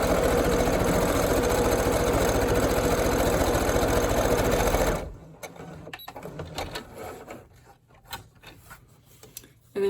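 A sewing machine stitches cloth masks in a fast, steady mechanical whir that runs for about five seconds and then stops, leaving only faint handling clicks and rustles.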